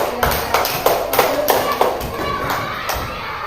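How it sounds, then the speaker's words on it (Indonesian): Scattered claps from a school class applauding group 4 after a science presentation in a classroom, uneven and close, with children's voices and talk mixed in. "tepuk tangan buat kelompok 4"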